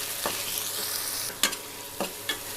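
Chopped tomatoes frying with ginger garlic paste in a pan for a crab semi gravy, a steady close sizzle broken by a few sharp scraping stirs, no talk.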